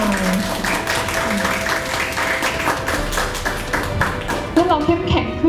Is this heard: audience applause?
yes